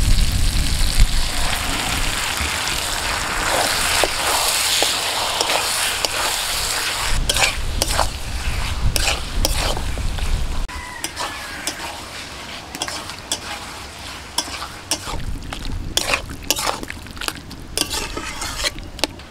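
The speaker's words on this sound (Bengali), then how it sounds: "এখন এর মধ্যে আমি ম্যারিনেট করা মটনটা দিয়ে দিচ্ছি।" Marinated mutton goes into spice paste in a hot pan and sizzles loudly, with continuous frying hiss and repeated clatter of a spoon stirring against the pot, close up throughout.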